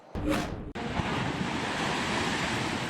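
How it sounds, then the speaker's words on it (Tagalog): Large surf waves pound the shore at Barangay Baliwasan in Kalamansig, Sultan Kudarat, a loud, continuous wash of crashing water and wind buffeting the microphone, with a brief dropout near the start. "Naglalakihan naman ang alon sa barangay Baliwasan sa Kalamansig, Sultan Kudarat."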